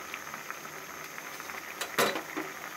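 Potatoes boil in water in a covered pot, a soft bubbling simmer with light patter and one brief clink of the lid or a utensil near the end.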